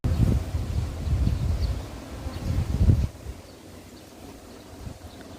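Strong wind gusts buffeting a beehive where bees cling to the comb, loud rumbling bursts for about three seconds, then dropping to a quieter steady breeze.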